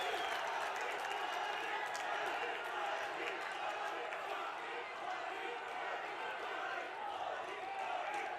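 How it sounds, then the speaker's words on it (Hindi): A large crowd at a public meeting addressed by Prime Minister Narendra Modi in Dehradun claps continuously in a dense, even roar of applause, with a voice faintly present beneath it. "एक बार जोरदार तालियां माननीय प्रधानमंत्री श्री मोदी जी के लिए।"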